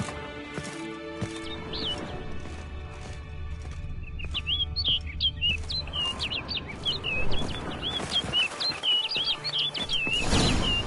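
Video game birdsong, with faint chirps at first, then a bright run of quick, trilling calls that grows busier and louder over a low background rumble.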